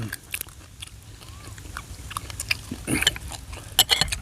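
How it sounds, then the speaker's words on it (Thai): Crunchy close-up chewing of spicy Isan-style cucumber salad made with fermented fish, with irregular wet bites and crisp crunches near the microphone and no talking. "ฟังเสียงสดสดตำมะแตง ใส่ปลาไหลอีสานแท้ๆแบบเผ็ด"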